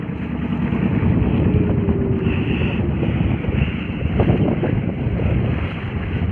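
A boat turning at sea, a steady heavy roar of wind buffeting the microphone over engine and water wash, loud and constant throughout with no voices.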